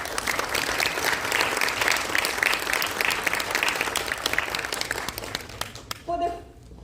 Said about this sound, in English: So let's give a round of applause to Greg.